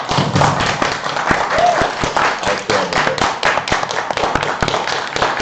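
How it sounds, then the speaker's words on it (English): An audience at the Rolisboa 2021 event claps for Mike Pondsmith, a steady patter of many hands with some louder thuds and taps, voices faintly mixed in throughout. "let's all applaud Mike"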